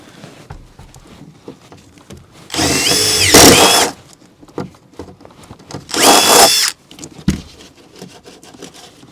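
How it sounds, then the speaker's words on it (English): Power drill boring a hole through the wall of a vintage 1957 Airstream trailer: two loud whining bursts of about a second each, separated by quieter shuffling and handling noise. "drill a hole over there so we can get back to the water heater"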